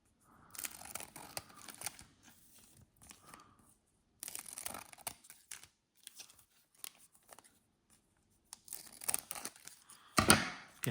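Sealed basketball trading card packs are cut open and their wrappers torn, making scattered crinkling, snipping and ripping bursts with quiet gaps between them, close up and fairly soft, with no voices.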